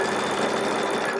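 A Baby Lock Solaris sewing machine stitching quarter-inch seams with a piecing foot, a fast, steady mechanical whirr heard up close and loud throughout the short burst.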